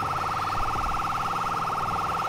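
Ambulance siren from the video game GTA IV, a steady electronic warbling wail repeating rapidly and evenly, loud and continuous over a low background rumble.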